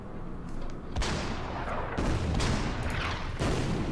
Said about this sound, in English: Then we'll fire the artillery.